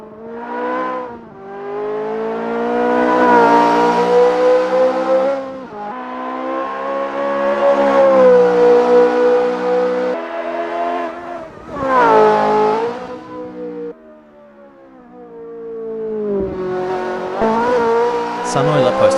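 Ferrari F355 racing around the Hungaroring in Assetto Corsa, its engine loud and close, rising and falling through the gears with sustained high revs and brief dips between bursts.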